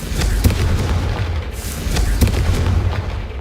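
Hogwarts Legacy Confringo blasting spell explosions, a series of deep booming blasts with crackling bursts, loud and close over a rumbling background.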